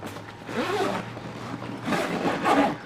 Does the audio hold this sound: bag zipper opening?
yes